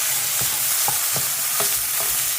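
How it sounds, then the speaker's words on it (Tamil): Grated coconut sautés in a hot pan, a steady close sizzle punctuated by a handful of soft scraping stirs of the spoon at regular intervals, with no talking. "இதை அப்படியே நல்லா வதக்கிக்கணும்"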